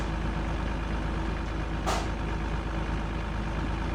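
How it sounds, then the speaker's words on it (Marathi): Engine of a Tata truck in a truck driving video game at high speed: a steady, loud, unbroken drone with one short hiss partway through. "भावांना बघा truck high speed कितीचे 76ची high speed आहे."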